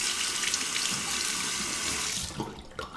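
Running tap water rushes steadily into a sink as a copper open-comb safety razor is rinsed under it, then the flow breaks up briefly near the end with splashing.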